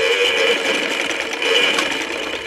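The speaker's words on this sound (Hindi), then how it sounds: "ये यहाँ तक मैं सिलाई लगाऊँगी बस" A sewing machine stitches the chest seam of a ladies' kurta in a steady, continuous whir. The hum holds close and even throughout, with no talk over it.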